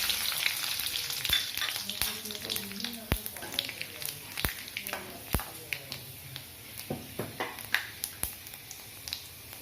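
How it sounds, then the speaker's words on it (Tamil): Cumin, black pepper and fenugreek seeds hiss and crackle in hot oil for a Tamil tempering, with sharp pops and taps scattered over a steady sizzle at close range, faint talk occasionally underneath. "இப்போ இதில் தாளிக்க சீரகம் 1 ஸ்பூனு, மிளகு 1/2 ஸ்பூனு, கொஞ்சமாக வெந்தயம்,"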